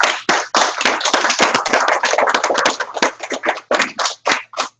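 Audience applause welcoming an activist speaker at an evening talk: close, loud crowd clapping with dense sharp claps that thin out toward the end.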